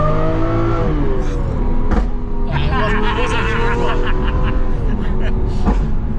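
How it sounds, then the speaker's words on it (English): A loud car engine roars and revs up and down continuously, close by, with people talking over it. "this really does sound like a Formula One kind of a car"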